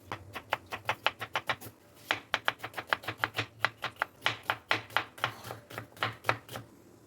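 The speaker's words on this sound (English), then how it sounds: "take 3 large onions and chop them roughly" Three large onions are chopped roughly on a board, a quick run of crisp knife thuds in steady rhythm with a brief pause after about two seconds, close and clear.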